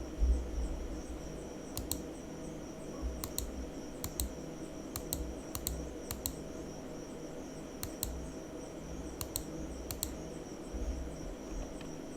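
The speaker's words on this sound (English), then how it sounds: "we need to type our username and type a computer name" Keys clatter on a computer keyboard as a username and computer name are typed, in short irregular bursts of crisp clicks with pauses between them, close and fairly quiet over a faint steady hum.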